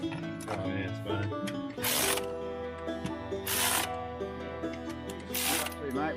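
A ratchet tightens the head stud bolts on a TB42 engine in stages, giving short bursts of rapid clicking repeated every couple of seconds over a background hum and nearby voices.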